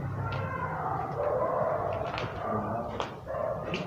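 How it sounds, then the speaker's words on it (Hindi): Several dogs bark, yip and whimper outdoors at a moderate distance, with steady overlapping barking over constant background noise. "कुत्ते कैसे भौंकने स्टार्ट हो गए"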